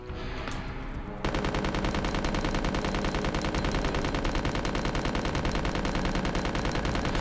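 Machine gun in Resident Evil 2 opens up after a second of ambient game sound, a loud, rapid, unbroken stream of shots running to the end of the clip without talk.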